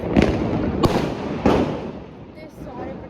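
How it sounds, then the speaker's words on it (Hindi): Diwali sky-shot fireworks burst in sharp, loud cracks, three distinct bangs over a few seconds with a crackling rumble between, as people talk nearby. "इतनी सारी पटाखों की आवाज़ आ रही है"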